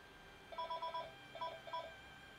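Phone ringing faintly in the background, two short bursts of a warbling electronic ring pattern separated by a pause, over quiet room hum.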